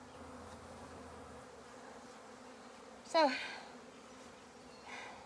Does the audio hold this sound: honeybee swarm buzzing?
yes